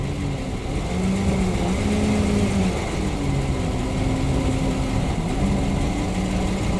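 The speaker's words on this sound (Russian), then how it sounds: "Ну вот он на холостых без подачи газа сам тянет" A PAZ-672 bus engine idles with no throttle after warming up, a steady low rumble with a faint wavering tone, continuous and close, no voices.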